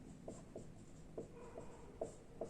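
Pen strokes on paper while maths is written out by hand, a run of soft, quick scratching taps at an uneven rhythm, faint and close, with no talking.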